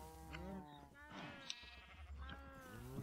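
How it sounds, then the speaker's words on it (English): Bleating sheep in the video game Minecraft, a baby sheep among them, with several wavering bleats in quick succession over a low background hum, moderately close. "Look, a baby sheep."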